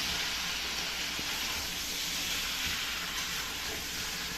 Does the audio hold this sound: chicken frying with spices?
yes